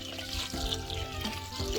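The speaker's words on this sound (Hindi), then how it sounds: "अब हमने इसको अच्छे से वॉश कर लेना है" Cold fresh water is poured over spinach leaves being washed for a large rice and spinach pulao, a steady close splashing with brief gurgles and no talk.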